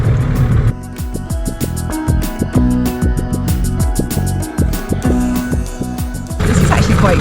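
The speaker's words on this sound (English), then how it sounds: "Propeller on the mangroves." A boat propeller repeatedly strikes mangrove roots on the Mosquito Coast of Panama, giving a rapid series of loud, close knocks and thwacks over a steady engine drone, with no talking.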